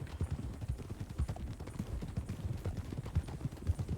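Horses' hooves clip-clop steadily in Red Dead RedM, several animals walking together in a dense, overlapping rhythm of soft, close thuds with no talking.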